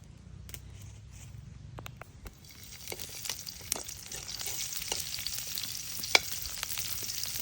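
Steady frying sizzle of ginger, onion, garlic and chili with scraping and stirring clatter from a utensil, close up, growing slightly louder toward the end.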